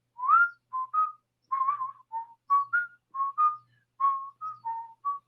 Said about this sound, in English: And at the end, we do some whistling